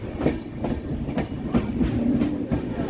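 The 12343 Darjeeling Mail runs at speed through Murshidabad district at night, wheels beating a steady clickety-clack over rail joints with regular rhythmic thumps under a continuous rumble, heard from inside the carriage.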